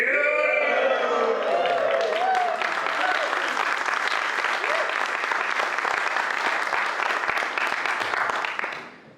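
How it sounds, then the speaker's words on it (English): An audience at a writing award announcement breaks into loud cheering and whooping that settles into sustained dense applause, fading out at the end. "will you join me in a rousing cheer?"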